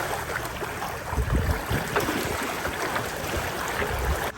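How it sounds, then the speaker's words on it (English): Easterly sea swell and wind around a sailing catamaran off an island, a broad rushing wash of water and gusting air, fairly loud and close with surges that rise and ease. "a bit of an easterly swell"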